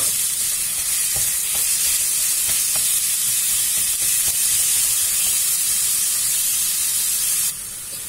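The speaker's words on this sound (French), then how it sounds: "Maintenant, je vais rajouter ma viande hachée. Je vais les mietter." Minced meat sizzles and hisses steadily in a frying pan with caramelized onions, a loud continuous crackle with occasional stirring scrapes and no talking.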